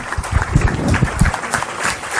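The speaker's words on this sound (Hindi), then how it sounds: "खड़े होकर इस काम की सराहना कीजिए और तालियां बजाइए" Audience applause at a Hindi kavi sammelan poetry gathering, a steady, fairly loud wash of many hands clapping together for a couple of seconds with no voices over it.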